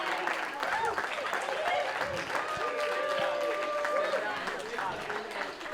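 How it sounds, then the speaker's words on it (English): Audience clapping and cheering steadily at a celebration, dense continuous applause with whoops and shouts, loud and close, with voices calling out over it. "Keep that clap going."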